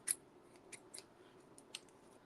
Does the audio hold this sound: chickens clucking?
no